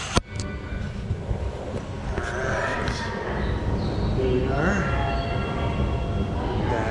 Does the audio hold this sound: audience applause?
no